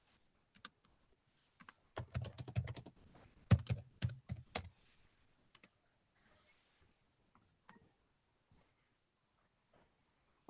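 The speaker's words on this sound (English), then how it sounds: "I'm typing." Close computer keyboard typing in bursts of rapid clicks, loudest in the middle, tapering to a few scattered keystrokes in a quiet room.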